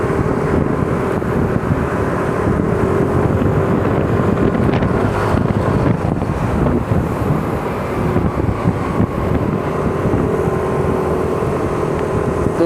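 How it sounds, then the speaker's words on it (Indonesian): Strong wind roars over an elevated flyover above a Jakarta LRT construction site, Velodrome to Manggarai, as a loud, continuous buffeting rush that persists for the full duration. "Tuh bisa kita lihat angin kencang banget."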